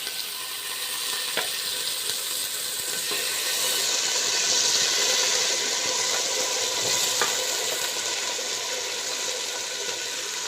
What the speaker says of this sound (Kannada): ಹಾಗೆ ನಾವೀಗ ಬೇಯಿಸಿರುವಂತಹ ಮಟನನ್ನು ಇದಕ್ಕೆ ಹಾಕೊಳ್ಳೋಣ.